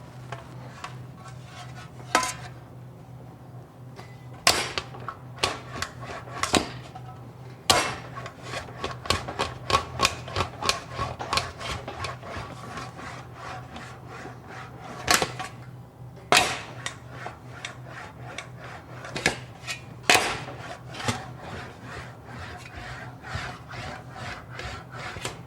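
Metal motorcycle fuel tank being smoothed by hand, with a run of sharp, irregular metallic taps and strikes over steady rubbing and a low background hum.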